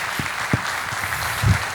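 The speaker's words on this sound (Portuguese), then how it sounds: "Muitas palmas pro Márcio." An audience at a creativity talk breaks into applause, a steady wash of clapping at moderate volume with a few sharper claps standing out, no voices.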